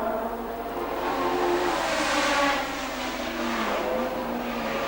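Formula One cars at the 1970 British Grand Prix racing down a straight, a loud high engine whine that swells as cars pass and then settles into a steady drone, with no one talking.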